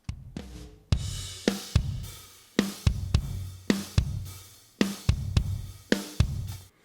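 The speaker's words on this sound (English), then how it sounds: "And the crush bus on its own sounds like this." Heavily compressed drum bus played solo from a mixed drum kit, with punchy kick and snare hits and splashy, sustained cymbal wash in a steady groove, loud and alone.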